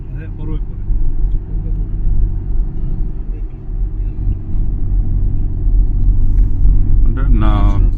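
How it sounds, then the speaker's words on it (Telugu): A Thar-type 4x4 vehicle drives in Oman with a continuous low engine rumble close by, while people talk over it throughout. "ఇక్కడ చూడు, అది థార్ టైప్ 4x4 అన్న ఈ వెహికల్"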